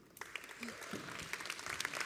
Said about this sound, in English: give a really big applause for Ludovica.